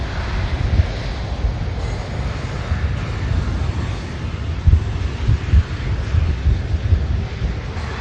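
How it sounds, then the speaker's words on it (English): Strong, gusty wind at Manchester Airport buffets the microphone with a constant low rumble, and heavier thumping gusts come through now and then, loud and close, with no speech. "It's a fair bit of wind today at Manchester Airport."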